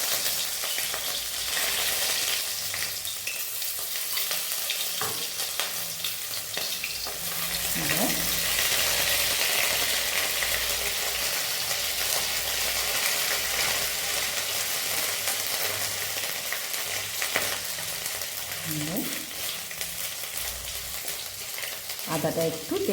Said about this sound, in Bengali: আদাটা একটু তেলে আমি নেড়ে চেড়ে নিয়েছি।